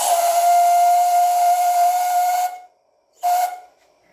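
D class steam locomotive sounding a loud, steady whistle with a broad steam hiss for over two seconds, then a short pause and a brief second blast.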